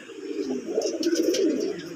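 Bengali deshi colouring golla pigeons coo close by in a soft, throaty, rolling run of low calls over about two seconds, alone and without talk.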